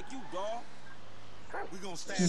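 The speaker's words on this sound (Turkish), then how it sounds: "Bildiğiniz havlıyor hav ama havlıyor sadece yemiyor." A dog barks in the video game GTA V, a few short yips and barks near the start and end, with a person talking over much of it.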